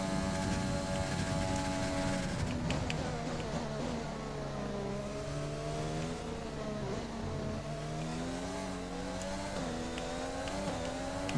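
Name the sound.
Formula 1 race car engine in F1 2020 video game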